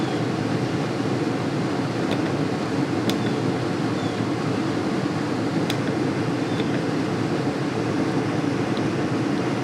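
Air conditioner of a 2022 Starcraft Super Lite 212FB travel trailer running, a loud, steady whooshing drone broken by a few faint clicks, with no talking.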